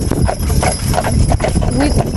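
Percheron draft horses clip-clop steadily on a Sunday drive, their hoof beats close and even, with a faint neigh and a noisy rumbling background beneath.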